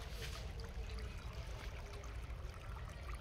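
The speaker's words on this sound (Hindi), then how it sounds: "अभी देख सकते हैं पानी छोड़ दिया हूँ" Irrigation water flows steadily into a potato field outdoors, a continuous low rushing and trickling wash that stays even throughout with no voices.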